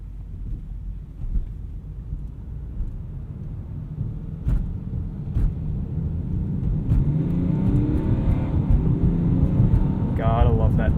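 A 2017 BMW X5 xDrive35d diesel accelerates from inside the cabin, a steady low engine drone and road rumble slowly building in loudness, with a few brief knocks and a voice talking faintly near the end.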